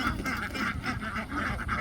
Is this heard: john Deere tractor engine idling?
no